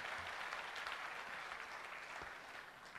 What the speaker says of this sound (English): give a big round of applause to all the 167 applicants